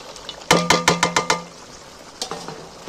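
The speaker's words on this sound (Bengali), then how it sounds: "ভাজা মাংসগুলো এর মধ্যে তুলে দিচ্ছি।" Fried chicken pieces dropped into a pan for a coriander chicken dish, a quick run of six sharp metallic clacks, followed after a pause by a few softer knocks of stirring.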